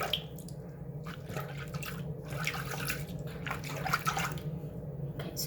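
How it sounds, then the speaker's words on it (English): Hot water runs from a tap into a basin of cold water used for washing toys, a continuous splashing, trickling flow with small drips, close and moderately loud, with no speech. "I'm gonna add some hot water to it."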